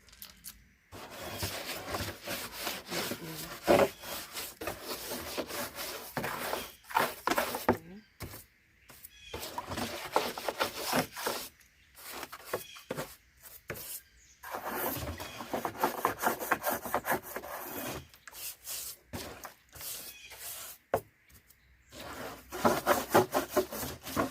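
Scrubbing a garden fountain clean with bleach and water, giving repeated rough rubbing strokes in bursts with short pauses, close and moderately loud, with a brief voice now and then.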